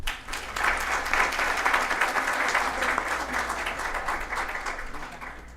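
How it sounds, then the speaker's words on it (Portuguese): Audience at a lecture on digital rights in Londrina breaks into sustained applause, a dense, even wash of clapping from a seated crowd lasting several seconds before slowly thinning, with no voices. "Uma salva de palmas"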